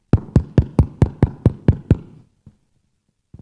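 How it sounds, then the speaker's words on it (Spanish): Hard knocking on a door, nine loud, evenly spaced heavy blows in quick succession, close and booming, then a couple of faint thuds before silence. "se tocaba la puerta bien duro"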